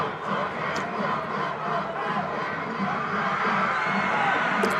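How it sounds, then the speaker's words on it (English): Crowd noise at a high school football game between North Salem and North Medford, a broad steady roar of cheering and shouting that swells after a turnover, loud and continuous throughout. "That brings the crowd to life."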